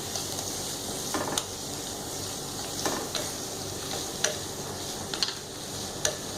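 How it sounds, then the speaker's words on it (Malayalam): Green chillies and chopped onion fry in a pan with a continuous hiss and sizzle. Sharp ticks and clinks of stirring sound at irregular intervals, and nobody speaks. "മുളക്, പച്ചമുളക് ഇടുക, അരിഞ്ഞു വച്ചിരിക്കുന്ന ഉള്ളി ഇടുക"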